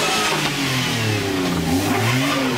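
A car revs aggressively on a snowy street in Brest, its engine climbing and falling through several strong pulls as it speeds past nearby, loud and continuous with no talk.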